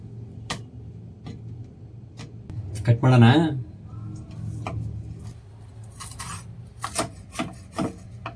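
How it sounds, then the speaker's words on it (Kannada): A knife chops coriander leaves on a board in light, sharp taps, evenly spaced at first and then quicker and irregular. A person talks over the chopping. "ಈಗ ಕೊತ್ತಂಬರಿ ಸೊಪ್ಪನ್ನ ಕಟ್ ಮಾಡೋಣ"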